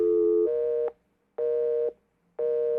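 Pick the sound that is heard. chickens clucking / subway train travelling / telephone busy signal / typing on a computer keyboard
telephone busy signal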